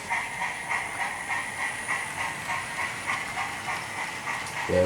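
Hornby model 9F steam locomotive with TTS sound running on a layout, a steady rhythmic chuffing and hiss over continuous rolling noise, moderately loud and close, no talk.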